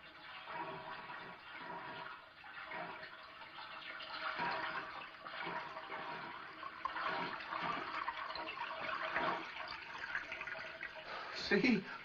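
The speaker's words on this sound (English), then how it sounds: "See, I told you it sounded like water running." Water runs into a bathtub in a 1942 mystery comedy film, a faint, continuous rushing and splashing heard in the background while people talk over it.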